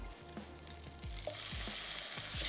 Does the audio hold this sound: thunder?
no